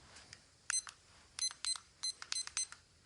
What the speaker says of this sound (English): I'll go ahead and start the timer